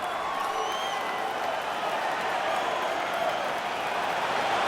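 A capacity arena crowd at a UFC fight roars and cheers steadily throughout, a dense, sustained wash of voices with no breaks.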